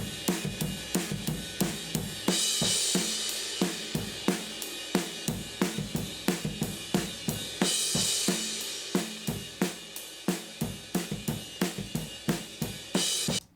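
A punchy drum loop plays through a Waves Abbey Road TG12345 compressor while its hold control is swept, so the hits' sustain and pumping shift as the pattern repeats steadily.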